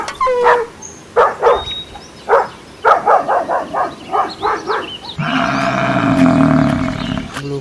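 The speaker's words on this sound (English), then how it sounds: "dog," A small dog gives a run of short, sharp barks, about ten in a rhythmic series, fairly close, followed by a sustained noisier animal call or roar-like sound near the end.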